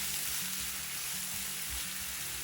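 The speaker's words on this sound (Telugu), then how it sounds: "ఈ ఉల్లిపాయ కూడా బ్రౌన్ కలర్ వచ్చే వరకు వేయించుకోవాలి" Chopped onion fries in hot oil, producing a dense, continuous sizzle that stays even and close for a few seconds with no pauses.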